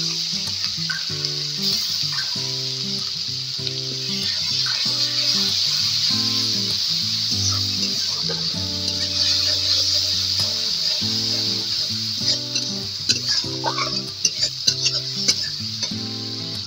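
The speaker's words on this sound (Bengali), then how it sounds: "একটা টমেটো পেস্ট করে রেখেছিলাম ওইটা দিয়ে দিচ্ছি।" Tomato paste hits a hot pan and sizzles loudly and steadily while being stirred, with a constant frying hiss and occasional spoon scrapes, close up and without talk, alongside a low tonal background.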